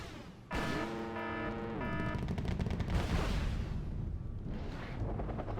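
Stationary anti-aircraft guns open fire in the video game Wargame: Red Dragon, a sudden loud burst of rapid autocannon fire that rolls into a dense, continuous roar of gunfire and explosions.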